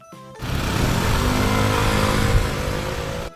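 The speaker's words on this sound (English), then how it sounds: "A motorbike has 2 wheels." A motorbike's engine bursts into a loud, close rev and sustains a rough, even roar for roughly three seconds before stopping abruptly, with no voices present.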